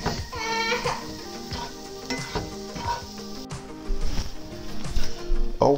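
Pork chops brown in a hot pan for a crockpot dish, a loud sizzle under music with scraping and knocking of a utensil, the frying rising toward the end.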